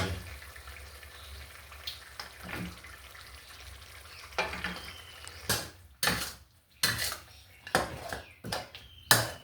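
Eggplant goes into a sizzling, fiery catfish and chili stir-fry with tree basil leaves in a wok. A low, steady fry gives way to several loud, sharp bursts of hissing and clattering close by.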